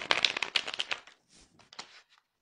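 Tarot cards shuffled and drawn by hand, a dense run of quick papery riffles and flicks for about a second, then a few softer slides and taps, close and alone.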